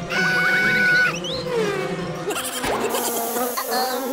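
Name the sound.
flies buzzing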